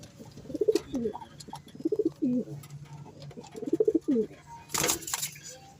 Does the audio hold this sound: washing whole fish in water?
no